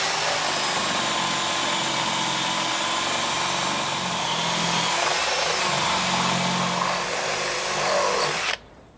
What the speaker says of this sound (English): Then I'm going to drill all the way through with our 13 mil hole